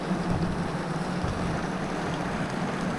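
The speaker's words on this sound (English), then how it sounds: "And there goes the Coast Guard." A Coast Guard boat passes the Marquette harbor on Lake Superior during a mid-July hailstorm, its steady low engine drone mixed with wind buffeting the microphone and water noise, continuous and fairly loud throughout.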